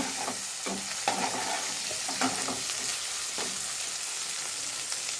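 Chopped onion and a small tomato frying in oil in a pan for a cowpea leaf gravy, with a steady close sizzle and several soft scraping stirs of a spoon, no voices.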